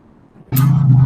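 Motorcycle passing close by, bursting in abruptly after a quiet room and holding a loud, steady low engine drone with broadband roar for the rest of the moment.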